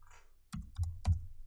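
A few crisp key presses on a computer keyboard while entering a value, three or four distinct close clicks after a brief quiet moment.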